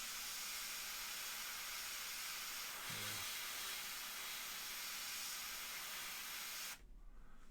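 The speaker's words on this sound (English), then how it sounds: "We'll spray it right on the sides," Spray paint hisses onto the ends of a McFarlane Toys Hellblaster Primaris marine figure in one long, close, steady burst of about seven seconds, then cuts off abruptly.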